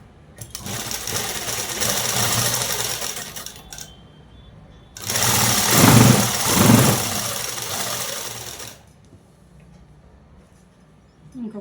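An electric sewing machine stitches a long frock dress in two runs, a fast steady mechanical whirring lasting a few seconds each with a pause between, close and fairly loud.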